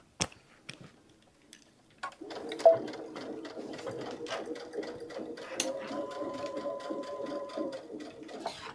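A sewing machine stitches fabric in a run of quick mechanical clicks, which settles after a couple of seconds into a steady, moderately faint hum of stitching.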